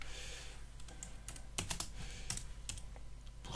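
Keystrokes on a computer keyboard while a BAT file is written, with irregular clusters of light, close clicks over a low steady hum.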